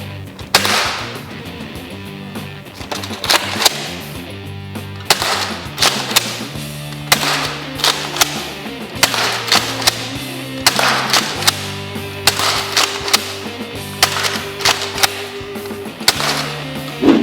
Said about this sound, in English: I'm gonna shoot it towards the camera, but not at the camera, right above the camera